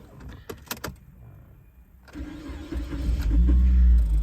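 A Suzuki Grand Vitara engine cranks and catches, rising into a loud, steady idle close by after a couple of seconds of quieter clicks and shuffling, with no talk.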